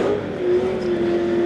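A Ford pickup and a Dodge Durango roar down a street-legal drag strip, engines droning loud and steady in a sustained high-revving run with no letup across the short stretch.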